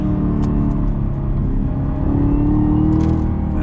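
A Chevrolet Camaro ZL1 muscle car accelerates hard under throttle in manual shift mode. The engine is loud and close, with a steady deep roar and a rising whine as it pulls, with no voices.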